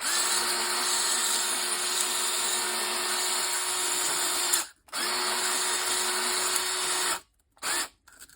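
A power drill spins a hone inside an engine cylinder, giving a steady, loud high-pitched whine that cuts out briefly partway through, restarts, then stops again before one last short burst.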